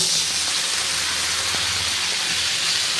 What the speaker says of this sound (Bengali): দিয়ে দিচ্ছি একটু ঈষৎ উষ্ণ জল।